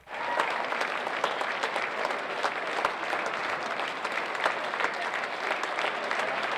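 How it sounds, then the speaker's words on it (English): A crowd in an airport terminal applauds arriving veterans, continuous even clapping that starts abruptly and carries on unbroken at moderate loudness, with scattered sharper claps standing out. "as the heroes stream out, the applause goes on and on"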